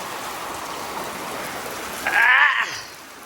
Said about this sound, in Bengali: বাইরে জাস্ট দেখো ঝেপে বৃষ্টি শুরু হয়েছে